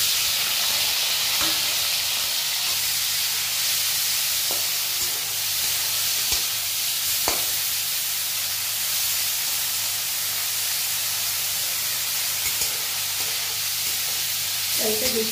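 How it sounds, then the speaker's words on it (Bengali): Small prawns fry in a little oil in a hot wok, giving a continuous bright sizzling hiss with scattered sharp pops and crackles throughout, close and steady, with no talking. "এবারে চিংড়ি মাছটা ভাজার জন্য আমি সামান্য একটু তেল দিয়ে দিলাম, আর এটা চিংড়ি মাছটা ভেজে তুলে নেব।"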